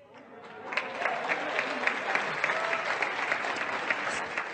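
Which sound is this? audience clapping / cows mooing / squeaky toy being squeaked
audience clapping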